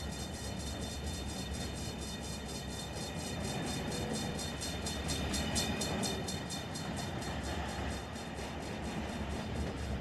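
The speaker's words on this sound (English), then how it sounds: "Got dynamic brakes on here to slow down a little bit." A BNSF freight train in the Run 8 train simulator slowing on dynamic brakes at La Mirada yard, giving a steady mechanical roar with a pulsing high whine that swells and fades over ten seconds.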